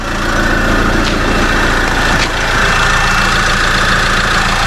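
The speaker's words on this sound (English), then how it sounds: "So I've just got the car running." A 2014 Mercedes B-Class engine idles steadily right after an oil service, a loud, even mechanical hum with no speech over it.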